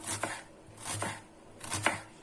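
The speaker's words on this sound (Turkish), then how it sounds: "Şöyle yemeklik şekilde doğruyoruz soğanlarımızı da." A knife chops onions on a board in three separated strokes, each a crisp thud with a slicing rasp, close and unhurried.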